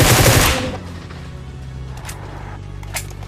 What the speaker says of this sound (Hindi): पड़ रही गोलियां